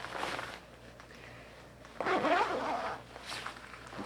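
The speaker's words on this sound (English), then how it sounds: "I can zip this jacket up." An Outdoor Research Foray rain jacket's dual-sided zipper being pulled up, with a louder rasping zip run in the middle and lighter fabric rustling before and after, close and alone.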